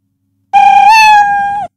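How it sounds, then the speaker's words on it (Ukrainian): The stock cat meow sound effect in Scratch 3: a single loud, close, tonal meow that rises slightly and holds for about a second before cutting off, with no talking around it. "Він нявкав дуже багато"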